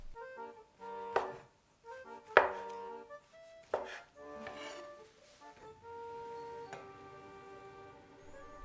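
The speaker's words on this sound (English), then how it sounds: "Cut the Shiitake mushrooms into slices." A knife slices shiitake mushrooms on a cutting board, a few distinct, crisp chops spaced about a second apart, fairly close, with faint background hum and no talking.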